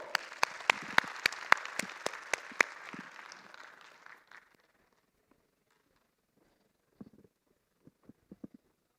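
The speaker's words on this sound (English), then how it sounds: "A big round of applause for all of you." Applause from an audience at a festival event, a dense burst of clapping that fills the first four seconds and then dies away, leaving a few scattered, isolated claps near the end.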